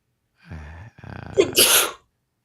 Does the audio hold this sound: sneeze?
yes